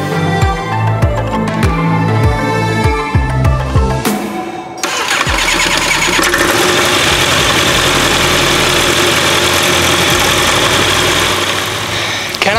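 Kitfox light aircraft engine on a ground run, starting with a few uneven catches, then settling into a loud, steady idle rumble that holds close and continuous throughout.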